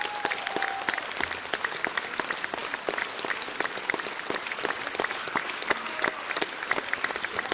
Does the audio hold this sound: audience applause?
yes